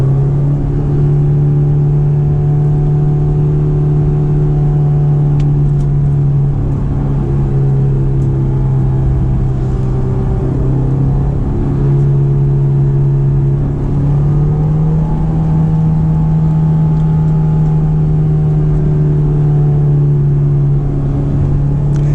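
Honda S2000 engine droning steadily while driving, a continuous loud in-cabin hum with slight pitch shifts as revs rise and fall, and no voices.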